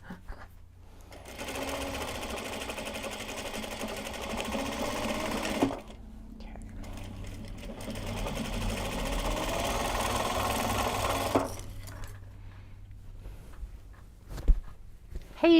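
A sewing machine stitches bags in a home studio, running in two long buzzing, rattling bursts separated by brief pauses, with some handling clunks and a final knock near the end.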